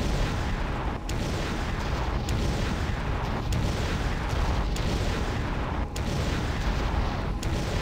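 Dense volley of laser fire in the Conker's Bad Fur Day video game, a loud continuous barrage of booming, crackling blasts with periodic sharper bursts roughly every second, close and unbroken throughout.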